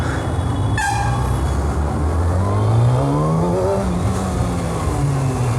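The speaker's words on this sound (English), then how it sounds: "Man, that inline four sound is just amazing" Kawasaki Ninja ZX6R motorcycle with a 636cc inline-four engine, its steady drone rising and falling in pitch through several revs over a constant rushing noise, fairly loud and close.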